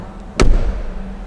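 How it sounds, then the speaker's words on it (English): The front door of a 2024 Peugeot 3008 shuts once with a single solid thud and a slight metallic edge, close by and followed by a short fading resonance. "Every time I close this front door, there's this metallic effect coming from here."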